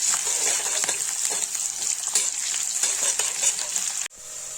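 Garlic, green chili and cumin fry in a pan with a bright, steady sizzle and occasional stirring scrapes. The sizzle stays close and continuous, then cuts off abruptly near the end.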